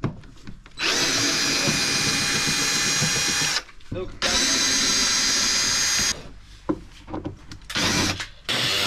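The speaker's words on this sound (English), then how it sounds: "we are cutting two screws because we couldn't loosen it up" A power tool cuts through two stuck screws in bursts, a loud high grinding whine held for several seconds at a time with short pauses between, and voices talk during the gaps.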